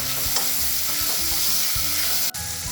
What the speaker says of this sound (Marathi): आता याच्यामध्ये टोमॅटो टाकायचे, तेही परतून घ्यायचे